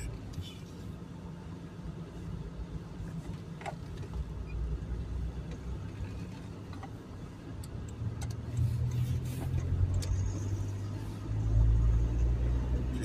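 A car driving along a road under repair, a low engine and tyre rumble that grows louder over rough sections, with light ticking and rattles as a person talks.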